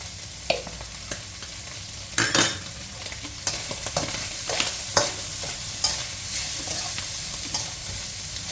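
Rice noodles with dried shrimp, fresh pork and pork sausage are stir-fried in a pan, with repeated scraping spatula strokes over a constant sizzle, close and steady, with no speech.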